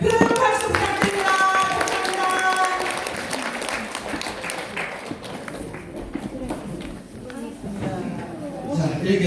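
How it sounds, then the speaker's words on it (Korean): Audience applause for company head Jin Gi-sik at the close of a two-day leadership business seminar, steady clapping filling the room for several seconds with voices and chatter mixed in. "1시간 이상 우리에게 꿈과 희망을 주신 진기식 사장님께 큰 박수 부탁드립니다"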